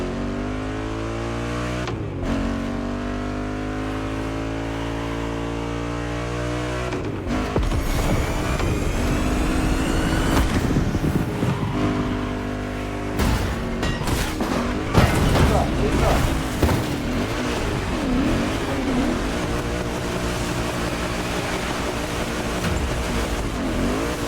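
A car drifting at an airport event in The Crew Motorfest racing game: a loud, continuous engine roar that revs up and down with tire scrubbing, over a long stretch of sustained driving.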